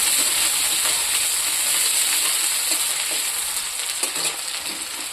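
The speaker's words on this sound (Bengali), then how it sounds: "আলুটা ভেজে নেব।" Potatoes fry in oil left from frying eggplant, a constant loud sizzle with soft crackling and a few stirring taps, close by and without speech.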